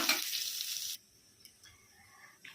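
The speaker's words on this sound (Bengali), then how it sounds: "আলু বেগুন যতক্ষণ আমার ভাজা হচ্ছে" Eggplant and potato pieces frying in oil in a pan: a loud, close sizzle for about a second, then dropping to a faint, sparse crackle.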